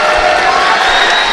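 A basketball arena crowd at Clemson claps and cheers in a steady, dense wash of applause, with a commentator's voice faintly beneath.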